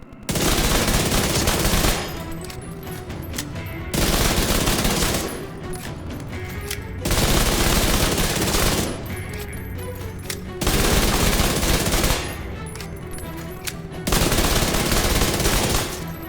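An SMG9 submachine gun in the Division 2 video game fires in long, loud rapid-fire bursts, about two seconds each, separated by short pauses, repeated five times.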